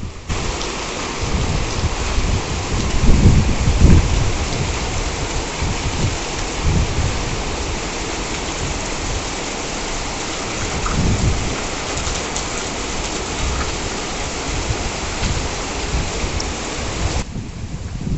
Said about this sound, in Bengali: বৃষ্টি স্রোতে কিন্তু ছাদে পানি জমে যাচ্ছে,